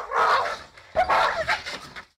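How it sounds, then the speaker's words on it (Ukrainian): Two fighting-breed dogs maul a stray dog: frantic snarling, yelping and whimpering in two bursts, loud and close, with no talk. "На цьому відео дві бійцівські собаки гризуть безпритульного пса."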